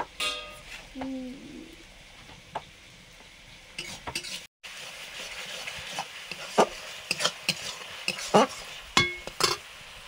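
Masala being stirred and sautéed in a pan, with repeated scraping and clinking of a spoon over a gentle sizzle, close up, and a voice briefly heard near the start.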